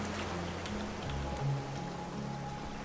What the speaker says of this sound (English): Does it normally rain in this game?